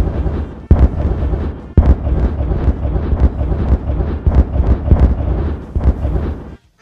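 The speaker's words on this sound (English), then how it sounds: "This explosion sound that you hear" Explosion sound effect: a loud, rumbling blast with crackling bursts and debris-like roar rolling on for several seconds before cutting off abruptly.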